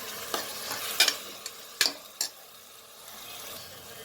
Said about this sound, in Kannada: ಚೆನ್ನಾಗಿ ಸ್ವಲ್ಪ ಬಾಡಿಸ್ಕೊಳ್ಳೋಣ ಇದು.